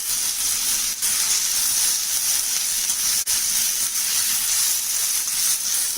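Potatoes frying in mustard oil in an iron wok give off a constant loud, bright sizzle and hiss, close and unbroken, with two faint clicks and no speech.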